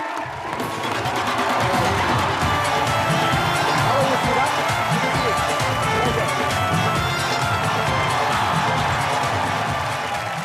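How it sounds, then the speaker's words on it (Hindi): A large studio audience claps and cheers for Sidhu on a comedy show, a dense, steady roar of applause with whoops and shouts sustained throughout. "जोरदार तालियां सिद्धू बाजी के लिए"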